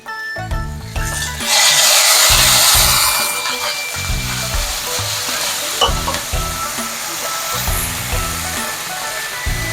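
Shrimp and broccoli stir-frying in garlic sauce in a Chinese home kitchen, a loud steady sizzle with bursts of clattering stirring and scraping throughout, swelling louder for a moment early on.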